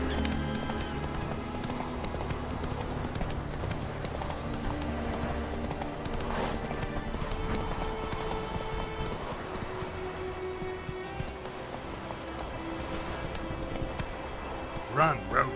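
Geralt's horse Roach gallops in The Witcher 3, steady clip-clop hoofbeats running throughout over game music and ambience, with a brief neigh possible near the end.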